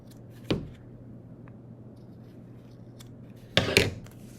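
Two crisp snips of fabric shears cutting felt around a pattern piece, one early and a double snip later, close and distinct over a quiet room hum.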